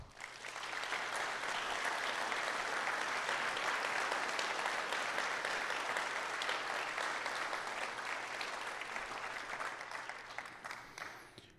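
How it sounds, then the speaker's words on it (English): Sustained applause from an audience at a community meeting about area wildfires, a dense steady wash of clapping that holds for about ten seconds before tapering slightly near the end. "So they deserve a big round of applause"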